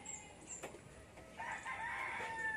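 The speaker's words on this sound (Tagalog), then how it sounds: "Ito breeder's cock." A breeder's rooster crows at a gamefowl loft in Del Gallego, Camarines Sur, a moderately distant call under steady background noise, rising and holding over the last second.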